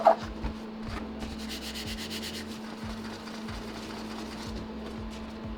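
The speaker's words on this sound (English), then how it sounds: "you'll have an idea at least of what rubbing your hand across sounds like compared to a slick case cover" A hand rubs back and forth across a textured Incase hardshell case on a 16-inch MacBook Pro, giving repeated soft scratchy strokes, close and quiet, over a faint steady hum.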